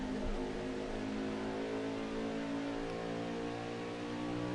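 An onboard race car engine drones loud and steady through turns 1 and 2 at an Iowa track during a 2024 CFRL midweek series, a constant throttle note without speech.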